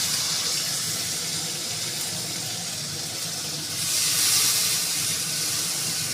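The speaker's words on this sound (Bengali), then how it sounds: "কালো জিরে ফোড়ন দিয়ে টমেটোটা দেব।" Chopped tomatoes go into hot oil tempered with black cumin (nigella seeds) and set off a loud, steady, close hiss that swells briefly louder toward the end.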